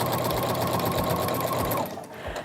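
A sewing machine fitted with a walking foot quilts a short stretch of fabric, running at a rapid, even stitching rhythm for about two seconds before stopping abruptly.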